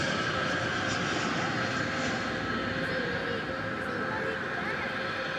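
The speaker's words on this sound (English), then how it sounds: "we've got a plane coming in from LAX, American Airlines" American Airlines jet in US Airways heritage livery landing at DFW Airport at night, arriving from LAX: a continuous loud engine roar with a steady whine layered on top, holding level throughout; a voice talks over it at times.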